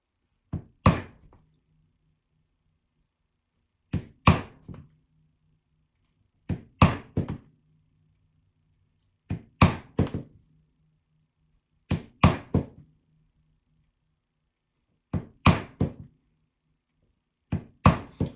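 A hand punch is struck through leather for SCA combat mitten gauntlets, a metal-on-metal tapping that comes as paired hammer blows about every three seconds, seven rounds in all, sharp and close against otherwise near silence.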